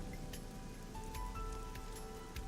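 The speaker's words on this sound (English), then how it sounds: "A parasol is getting pelted by the rain." Rain pelting a parasol at an abandoned amusement park in the video game AI: The Somnium Files, heard as a steady, dense patter of drops with a low ambient rumble and a faint tone, continuous and without speech.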